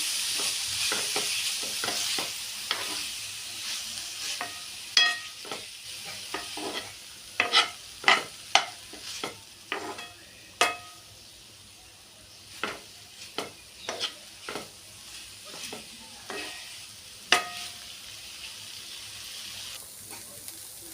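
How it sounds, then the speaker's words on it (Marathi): Cooked mutton mince being sautéed and stirred in a pan, a soft background sizzle broken by repeated sharp spatula scrapes and knocks at an irregular rhythm, close up with no talking. "आता याच्यामध्ये हा शिजवलेला मटण किंवा घालून घ्यायचा याला परतवून घ्यायचं"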